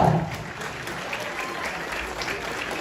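Loud, steady applause from an audience at the Smart Cinema Award 2025, a Chhollywood film award show, honouring a group. It is a dense, continuous wash of clapping that lasts throughout and swells slightly at the very start.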